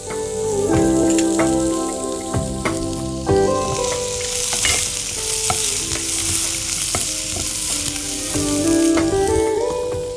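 Onion pieces and green chilies fry in a hot pan with a loud, continuous sizzle, broken by occasional stirring scrapes, with soft music underneath.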